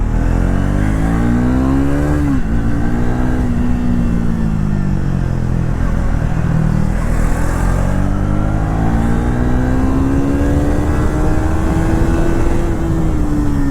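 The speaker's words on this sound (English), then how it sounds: "let's say third gear around 2500 rpm, I open the gas, there is no hesitation from the engine" A Triumph Thruxton 400 motorcycle pulls hard from around 2500 rpm in third gear, its engine note climbing steadily with a shift and renewed rise, loud and continuous over wind rush, no talking.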